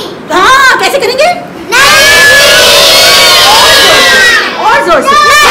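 A group of children screams and shouts loudly together in bursts, with a short pause before a long sustained collective scream, very close and loud.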